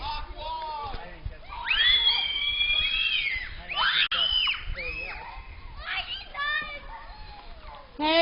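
Young girls shriek and squeal in high bursts while playing, mixed with chattering children's voices and adult talk, close and loud throughout.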